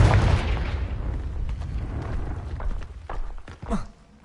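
A Confringo fire-blast spell explodes in Hogwarts Legacy, opening with a loud broadband blast that trails off into rumbling debris, followed by a few smaller pops and crackles.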